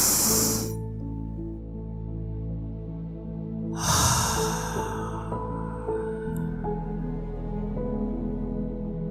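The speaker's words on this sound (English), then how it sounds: "And another inhale." A long, deep inhale during guided breathing meditation, heard as soft airy breath close to the listener over a steady low background drone, with no speech.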